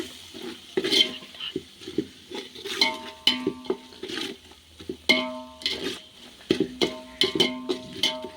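Spoon stirring chili powder into seeraga samba biryani in a pot, with repeated scraping and clinking strokes over a soft sizzle, close and uneven in rhythm, no talking.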